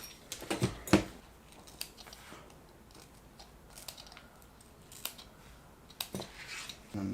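Scissors snip through thermal pad material during a re-pad of an Asus ROG Strix 2080Ti graphics card, giving a few crisp close cuts near the start and a couple of isolated snips later against a quiet room.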